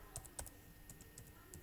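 Soft, quiet keystrokes on a computer keyboard as a web address is entered, a short scatter of separate taps with small gaps, alone without speech.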